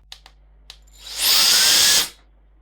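A few soft clicks, then a loud, steady whoosh of blown air from a WOLFBOX MF200 electric air duster lasting about a second before cutting off.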